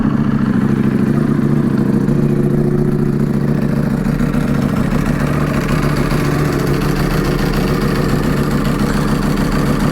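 A 2023 Ducati V4R with a freshly repaired dry clutch, its engine running loud and steady throughout while being ridden through city streets, a continuous close-up drone with no speech.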